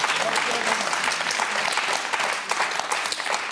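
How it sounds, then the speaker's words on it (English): A television studio audience during a political debate programme claps steadily throughout, a dense, even wash of applause from a modest crowd held close and loud for the whole stretch. "I might point out that sounds like a lot of you clapping."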